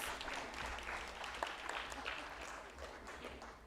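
Conference audience applauding panel speakers at a sustainable energy leadership event, a moderate steady round of clapping, with a voice audible underneath.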